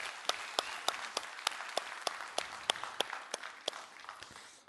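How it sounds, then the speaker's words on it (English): A conference audience claps for the volunteers and organizers, producing a light, scattered patter of distinct hand claps at a steady pace that thins out toward the end, heard at a moderate distance. "So a round of applause to all the volunteers and all the organizers who bring this on"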